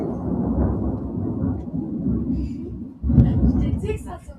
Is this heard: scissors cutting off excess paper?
no